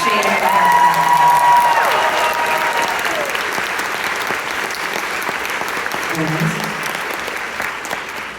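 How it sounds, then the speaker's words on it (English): Steady applause from a concert audience at a show during band introductions, loud and sustained through the whole stretch with faint crowd noise beneath and a brief tonal sound near the start. "a giant round of applause"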